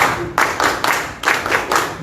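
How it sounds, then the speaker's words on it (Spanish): Audience applause at a Peruvian political event on urgent measures for small businesses, heard as a short burst of hand claps in several loose surges, fairly close and moderately loud, with no talking. "Fuertes palmas para el compañero de Mantilla"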